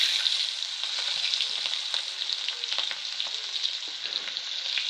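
Onions frying in oil in a pan after potatoes have been fried, a steady close sizzle with light crackling throughout and no talking.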